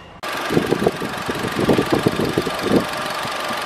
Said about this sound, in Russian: Двигатель работает сейчас на бензине.